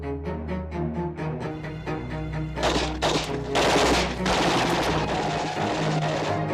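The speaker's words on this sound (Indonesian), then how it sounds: "Singkat cerita, pada patroli berikutnya peleton itu disergap dan ditembaki, membuat Lerner yang berada di depan terluka" Heavy gunfire from a war film ambush on a patrolling platoon, with dense bursts of automatic fire and shots building loud and close over a steady low background, the firing intensifying in the second half.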